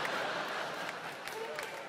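A comedy show audience applauding at a live German stage show, a steady wash of clapping with a little crowd noise, fairly close and moderately loud.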